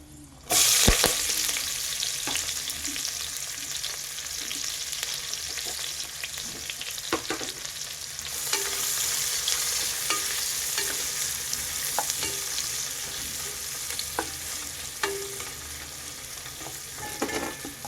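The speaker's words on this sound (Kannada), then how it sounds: "ಈರುಳ್ಳಿ ಸ್ವಲ್ಪ ಬ್ರೌನ್ ಆಗೋವರೆಗೂ ಫ್ರೈ ಮಾಡ್ಕೋಬೇಕು" Sliced onions crackle and sizzle in hot tempering oil as a spoon scrapes and stirs the pan every second or two; close and continuous, without talk.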